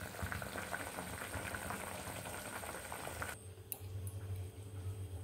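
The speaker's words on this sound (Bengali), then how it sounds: "মাছগুলো ঝোলে তুলে দিলাম, আর কিছুক্ষণ ফুটলে তারপরে নামিয়ে নেব" Fish curry bubbling steadily in a pot, a dense continuous boil with soft popping throughout, close and even, with no voices.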